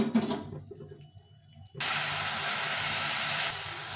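Egg curry masala sizzles and hisses as it is sautéed in a pan, starting with quieter stirring scrapes before a sudden steady loud frying sizzle that continues to the end.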